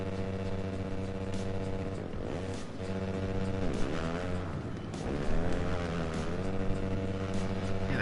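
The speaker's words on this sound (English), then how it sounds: "Cars are loud." A loud car drives past outside, a mile or two from a drag strip. Its engine drones steadily with rising and falling revs, close and prominent, with no talking.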